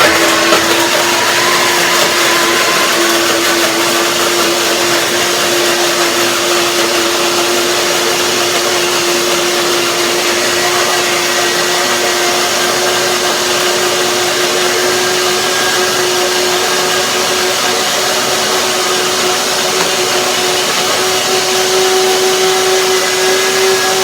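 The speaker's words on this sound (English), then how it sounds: "That would need a little bit more blending" Blender whirring steadily while blending cashews into cashew cream for vanilla ice cream, a loud continuous motor drone with a fixed pitch that holds throughout, with no talking.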